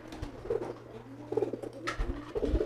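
Soft cooing of an adult pigeon repeats a few times over a steady low hum, with light rustling and bird calls nearby.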